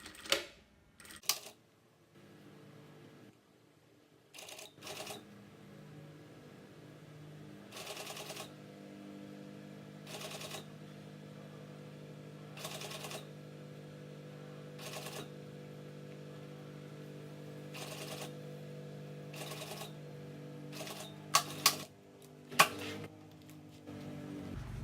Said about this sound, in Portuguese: Sempre o ponto maior da máquina, pois é uma costura que vai ficar aparecendo